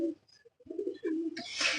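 Large, fit racing pigeons at a pigeon loft, with a soft low cooing phrase rising out of quiet, followed by a brief burst of rustling or wing noise at the end.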